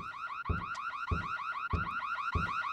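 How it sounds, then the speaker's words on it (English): A car alarm blares in a repeating warbling siren pattern, each cycle punctuated by a low thump at regular intervals of about 0.6 seconds, loud and close with no talking. "The alarm must have been deactivated."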